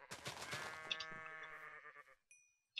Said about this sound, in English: God damn it, sheep!